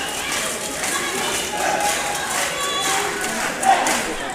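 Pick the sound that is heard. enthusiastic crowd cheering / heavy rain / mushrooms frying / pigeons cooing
enthusiastic crowd cheering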